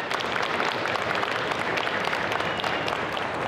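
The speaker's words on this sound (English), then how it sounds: "Round of applause for our Stormtrooper." An audience at MCM Comic Con London gives a round of applause for a Stormtrooper, a steady, dense wash of many hands clapping that holds even and moderately loud throughout, with no talk.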